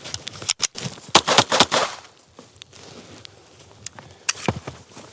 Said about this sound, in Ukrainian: вихватив пістолет і здійснив швидкі три постріли